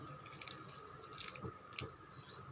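Half a tumbler of water poured into a pan of vegetable curry, heard as faint, brief splashes and drips in a quiet kitchen with no talking.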